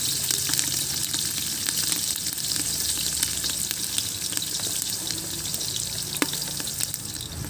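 Green chillies and onions fry in hot oil for a traditional-style mushroom biryani, a continuous close sizzle punctuated by sharp clicks as the pan is stirred, with no voices.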